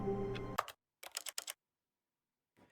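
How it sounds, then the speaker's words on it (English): Keys tap on a computer keyboard in a video game office, close and crisp: one short burst, then a quick cluster of keystrokes, a pause, and a few faint taps at the end. "He sat at his desk in room 427 and he pushed buttons on a keyboard."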